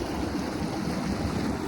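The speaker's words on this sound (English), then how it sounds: "We're motoring into the fjords." A diesel-powered boat motors into Norwegian fjords on a calm day, giving a steady, close rumble of engine and rushing water with a constant wash of noise and no break.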